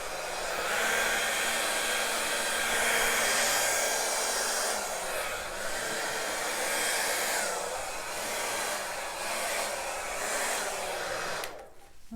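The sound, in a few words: blow dryer blowing acrylic pour paint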